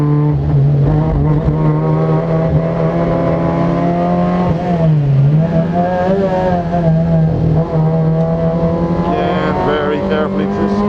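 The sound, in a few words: Fiat racing car accelerating on track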